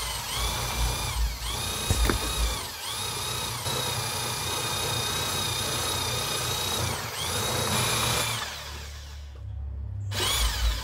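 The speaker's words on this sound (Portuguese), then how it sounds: "é necessário usar um misturador de argamassa com uma furadeira" An electric drill fitted with a mortar mixer paddle churns concrete, its high whine running steadily and loudly with brief pauses and changes in pitch, then stopping near the end before a short restart.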